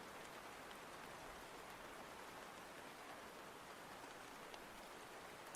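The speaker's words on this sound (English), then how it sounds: "I made the rain sounds a little bit louder." Steady rain sound effect, an even, broad hiss of falling drops on a surface with no variation, faint and continuous throughout.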